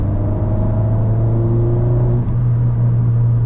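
An Abarth 595 engine hums at a steady low drone, with the pitch briefly rising and settling as the revs shift during automatic rev matching, heard from inside the car.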